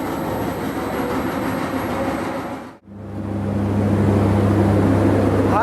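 Loud mining machinery roars during a descent into the Alès demonstration mine in the Cévennes, a dense continuous rumble that briefly dips to near silence and then returns as a steadier low hum.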